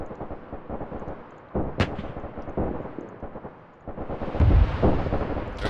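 Heavy booming shots from an 88 mm gun in a World War II North Africa game, fired at a machine gun team. Several loud, close reports arrive in separate bursts among rumbling battlefield noise.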